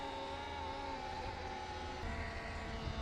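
A Talaria XXX electric dirt bike with a stuck throttle drones at a steady, continuous pitch, a fairly loud motor whine with layered harmonics that holds without letting up, and no talk.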